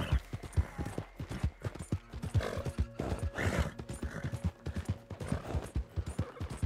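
Horse neighing and clip-clopping hooves in the video game Red Dead Redemption 2, a dense, busy mix of repeated hoof beats and whinnies with other game effects layered in and no speech.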